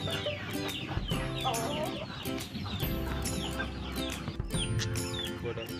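Chickens clucking continuously in a busy farmyard, with bird calls and other fowl noises layered over a steady background.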